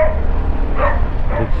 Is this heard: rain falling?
no